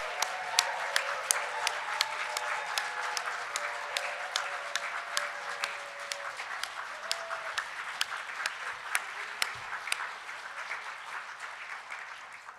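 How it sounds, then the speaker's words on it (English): Audience applause for graduates standing at a ceremony in a hotel ballroom, a steady crowd of many hands clapping continuously with sharp individual claps throughout, sustained at a fairly even level to the end. "ask all graduates to stand so we may collectively clap for them and our pride"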